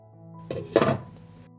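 A lid goes onto a pot of jars sitting on the stove, a short close clatter followed by a solid knock and a fading metallic ring.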